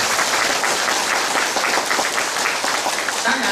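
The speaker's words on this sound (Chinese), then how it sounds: "我们要一个热烈的掌声，谢谢。" Audience at a Buddhist sutra lecture breaks into warm, sustained applause, a dense and even roar of clapping that holds steady for the whole moment without any voices above it.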